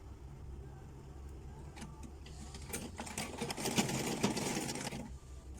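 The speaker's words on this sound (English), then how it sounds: "So when I sew and get to the marked point, I'll stop, okay." A sewing machine stitches an invisible zipper nearby, its motor whirring in a steady buzz that grows louder mid-stretch before slowing to a stop.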